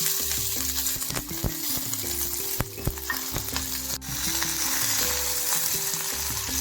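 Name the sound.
roasting cumin seeds in a kadai for sajja idli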